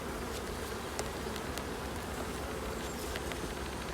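Honeybees at a hive during swarm recovery make a steady, dense buzzing hum that carries on evenly throughout, close and moderately quiet, with no talking.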